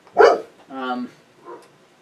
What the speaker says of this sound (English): Darn dog.